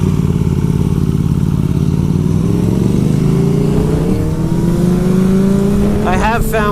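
Ducati 1199 Panigale S motorcycle accelerating hard at speed, a loud close engine note rising steadily in pitch under heavy wind roar, with a voice breaking in briefly near the end.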